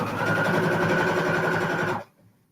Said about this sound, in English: That's why I like sewing on paper